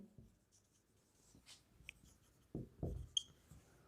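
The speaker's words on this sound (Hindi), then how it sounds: "लिखेंगे यूजिंग पाइथागोरस थ्योरम" Pen writing out a trigonometry solution on paper: soft, close scratching strokes and taps in irregular bursts, quiet at first and building to a few firmer strokes near the end.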